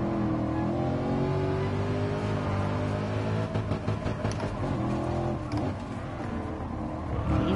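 Gran Turismo Sport racing with a Chevrolet Camaro, the loud engine droning steadily, then rising through revs and shifts with brief rattly bursts, running continuously from start to end.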